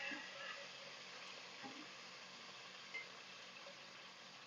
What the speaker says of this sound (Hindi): लहसुन अदरक का पेस्ट शामिल करके 2 मिनट मैंने इसकी भुनाई कर ली है।